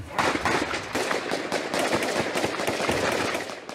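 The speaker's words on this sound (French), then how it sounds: "Des tirs nourris." Heavy, sustained gunfire during the GIGN assault on a printing works at Dammartin-en-Goële rattles in dense rapid bursts for several seconds. The shots come thick and loud with no pauses.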